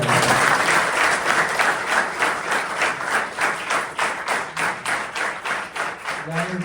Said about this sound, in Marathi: त्यासाठी सरांसाठी एकदा जोरदार टाळ्या.